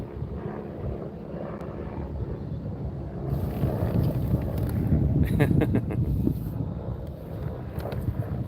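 Wind buffets the microphone in low, rumbling gusts, with a distant engine-like drone running underneath and rising slightly partway through.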